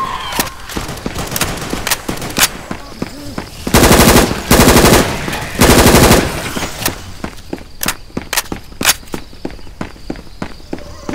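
An HK416 rifle fires in the video game Left 4 Dead 2, with loud, close bursts of automatic fire and single shots mixed with footsteps and game effects.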